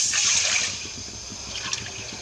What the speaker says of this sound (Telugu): ఒక కప్పుకి 2 కప్పులు వాటర్ పోసుకోవాలి.